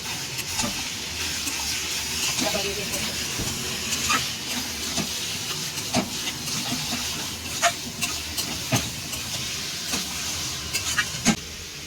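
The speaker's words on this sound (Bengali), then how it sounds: "মশলাকে এবার মটনটা দিয়ে দেবো, দিয়ে কষবো, অনেকক্ষণ ধরে কষবো।" Mutton sizzles in a spice paste in a pan with a steady hiss of frying. Faint scrapes and knocks of stirring repeat at irregular intervals, growing slightly sharper toward the end.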